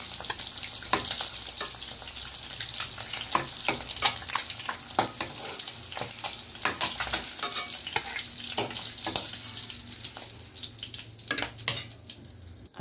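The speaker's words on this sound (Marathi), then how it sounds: "आणि त्याला चांगले फ्राय करून घेऊ." Eggs frying in a pan for egg curry, a steady quiet sizzle broken by irregular clinks and scraping stirs, with no talking.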